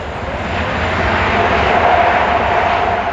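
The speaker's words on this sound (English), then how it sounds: "Out the window at the moment, we have a twin-engine turboprop aircraft that has this ambulance status" A twin-engine turboprop aircraft with ambulance status passes near Manchester airport, producing a loud, steady engine roar with a faint tonal whine running throughout, heard alone.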